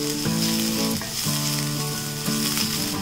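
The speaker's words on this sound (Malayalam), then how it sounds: "ഇതിലേക്ക് നമുക്ക് അരിഞ്ഞു വെച്ചിരിക്കുന്ന സവാള ചേർത്ത് കൊടുക്കാം." Chopped onions fry in hot oil in a pan with a loud, steady sizzle throughout, alongside faint stirring and a soft tonal background.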